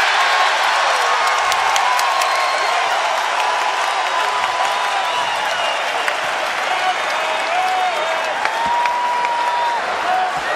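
More than 28,000 fans inside the Carrier Dome at a Clemson vs. Syracuse college basketball game rise to their feet with sustained applause and cheering, a loud, dense roar that fills the whole stretch with no letup.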